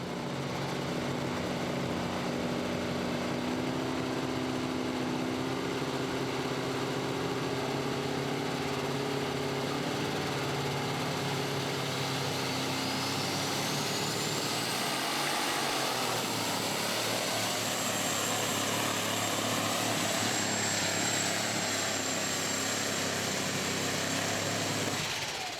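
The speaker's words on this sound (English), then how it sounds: "here comes Jeff Hurt now, finishing first 1 year ago behind the wheel of this tractor called Runnin' Bear." Unlimited super stock pulling tractor engine at a pro pulling league event in Saluda, South Carolina, a steady distant roar that builds to a rising high-pitched whine midway and holds there under constant background noise.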